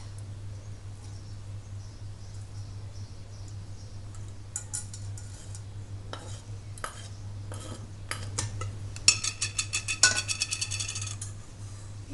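Chopped onion being tipped into a pot for onion syrup, heard as scattered clinks and light clatters of pieces and a utensil against the pot, faint at first and busier toward the end, over a steady low hum.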